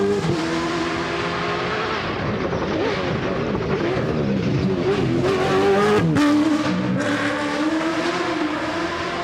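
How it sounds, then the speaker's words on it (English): Dakar Quattro rally car accelerating away from the start ramp on a forest rally stage at the Festival of Speed, engine revving hard and climbing through the gears, loud and close, then fading slightly. "Nani Roma out over the timing beam"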